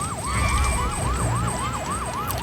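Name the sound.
siren on Big Red's head, video game Luigi's Mansion 3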